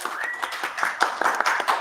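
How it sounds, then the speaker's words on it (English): A conference audience at a software testing event applauding a panel, a thin, moderately close patter of scattered claps with sharp individual hits and a faint tone in the background. "A small applause, please,"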